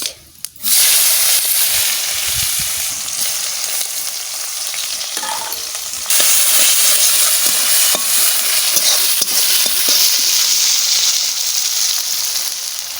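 Cumin seeds and onion fry in a hot pan for a rohu fish and potato curry, giving a loud, steady close sizzle with stirring that runs unbroken after a brief quiet start.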